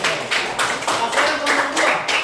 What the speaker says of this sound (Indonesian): Kembali tepuk tangan dulu untuk kelompok satu.